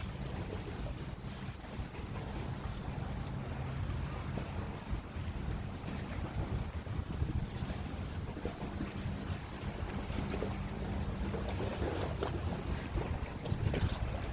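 A speed boat approaching across the water off Long Island, its motor a steady drone buried in heavy wind buffeting on the microphone, with waves washing beneath and no one speaking.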